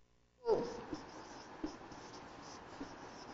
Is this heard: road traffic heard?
no